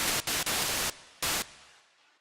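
DiscoDSP OB-Xd synthesizer plugin producing noise, loud bursts of broadband hiss switched on and off in quick succession, with the last burst fading into a decaying tail.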